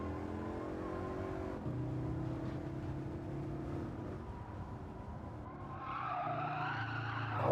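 A race car in Gran Turismo 7 loses traction, with tyres skidding and squealing over a droning engine that rises in pitch near the end, steady and fairly close.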